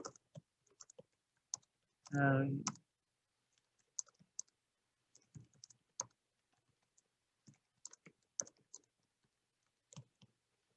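Feedback being typed on a computer keyboard, scattered light key clicks in short irregular clusters, faint and close, with a brief voice sounding once.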